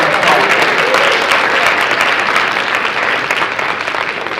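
Loud, dense applause from a graduation audience honoring the President and CEO of the Columbus Urban League, a sustained wash of many hands clapping that holds steady and eases slightly toward the end.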